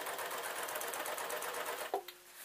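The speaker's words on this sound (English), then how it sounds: "I'm going to get the sewing machine to start" A sewing machine runs steadily with a rapid mechanical whir, then stops with a brief clunk near the end.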